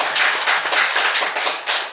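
A congregation at a Korean church worship service claps together in a thick, loud, continuous burst, with no voices heard.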